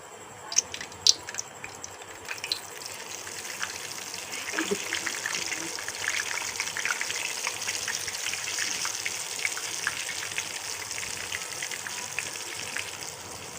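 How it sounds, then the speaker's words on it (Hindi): Battered KFC-style chicken pieces frying in hot oil over a medium flame: a couple of sharp clanks at the start, then a steady, close bubbling hiss that carries on to the end. "अब हम इसका फ्लेम मीडियम कर देंगे और इसको चिकन डालकर फ्राई करेंगे।"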